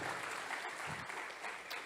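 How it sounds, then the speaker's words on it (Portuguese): A church congregation claps together in dense, steady applause that fills the whole stretch without pause, with a faint murmur of voices mixed in. "Aplaude Ele por isso."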